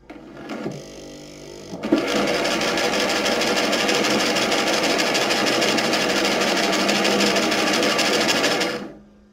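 An electric linking machine runs steadily for about seven seconds, a close, loud and even mechanical whir that starts abruptly and stops near the end, with a little handling noise at the start.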